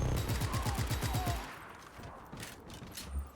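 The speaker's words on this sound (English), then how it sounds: "Carlos has a machine gunner." Machine gun fire in the Just Cause 3 video game: a rapid burst of close, loud shots for over a second, then quieter scattered clatter and a few distant thuds.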